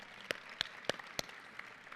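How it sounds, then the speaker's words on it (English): Four slow, evenly spaced claps at an awards banquet for Princeton Athletics, sharp and fairly close over a quiet room hum, one person clapping for Kim rather than a full crowd. "we can clap for Kim"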